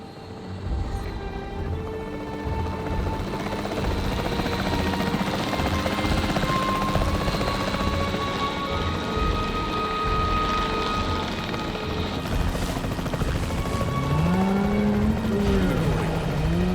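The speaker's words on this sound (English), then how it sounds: "The priority needs to be tranquilizing it with the capture team chopper." A capture team helicopter in the video game Jurassic World Evolution 3, a continuous loud rotor thrum with a steady mechanical whine, joined late by a rising and falling tonal sweep.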